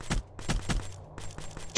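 Gunfire in a 2v2 shooter video game, with several sharp, rapid shots in a quick burst at moderate loudness and no talk over them.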